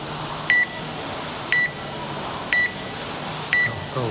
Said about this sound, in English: if I press, you start the timer, right?